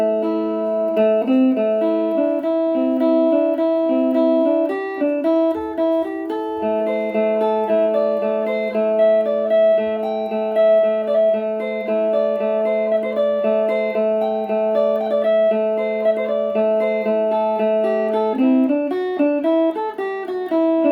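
Rosewood electric phin played live through an amplifier with no effects, a bright twangy plucked melody running continuously over a steady drone, moderately loud and close, with no talking.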